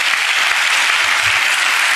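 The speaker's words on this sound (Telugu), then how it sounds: "అందరం చప్పట్లు కొడుతూ స్తోత్రాలు చెప్తాం." A church congregation claps steadily in applause after a prayer, a dense, continuous wash of many hands close by with no talking over it.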